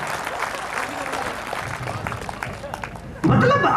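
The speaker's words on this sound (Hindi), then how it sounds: "जोरदार तालियां भाई हरिराम के लिए।" Audience applause for Hariram at a Rajasthani folk comedy stage show, dense clapping and crowd noise running throughout, swelling louder near the end.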